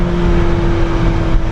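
A fast Formula-style race car's engine roars steadily at close range, a loud sustained drone with a strong steady tone throughout the short stretch, alone without talk.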